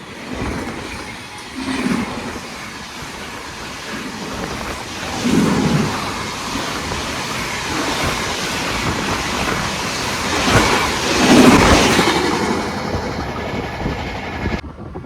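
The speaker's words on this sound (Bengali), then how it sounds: "বন্ধুরা এটা আমাদেরকে ওভারটেক করে গেল হাওড়া থেকে নিউ দিল্লি পূর্বা এক্সপ্রেস" The Howrah–New Delhi Purva Express overtakes on the adjacent track, a loud, sustained rumble of rolling wheels with heavier surges of clatter as coaches sweep past, no voices over it.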